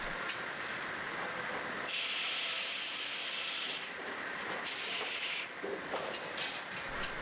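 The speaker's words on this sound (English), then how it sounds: "kind of saw is often used for trimming ends to standard lengths, squaring up faces, or making specialty cuts on beams and large timbers" A large sawmill saw at the Hull Oakes Lumber Co cuts big timbers and beams with a steady, loud, rushing grind that shifts in pitch and intensity as the blade works through the wood, with no voices.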